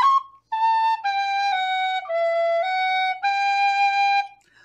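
Solo tin whistle plays a short phrase of a traditional East Galway Irish tune, bright, breathy sustained notes moving stepwise, heard up close and alone before fading out.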